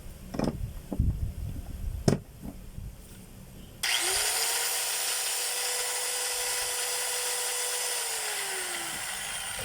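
A small electric power tool, freshly fitted with new carbon brushes, whines steadily at a high pitch after a few clicks and knocks, running continuously and close by without talk.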